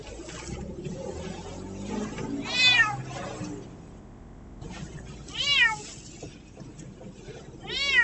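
A young tomcat meows three times, each a short rising and falling cry spaced a few seconds apart, fairly close in a quiet night setting with faint background noise.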